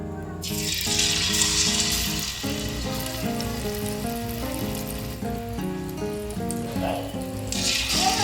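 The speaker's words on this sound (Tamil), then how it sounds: "நனைச்சி எண்ணெயில் போட்டுக்கலாம்." Flour-coated sweet dumplings of chana dal filling sizzle steadily in hot oil, a continuous close frying hiss with faint bubbling under sustained music and no talking.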